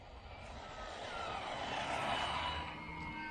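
A WLToys 124017 brushless RC buggy with a 2845 3400 kV motor runs at speed, its steady high-pitched electric whine holding loud and continuous throughout, with rough rumbling underneath.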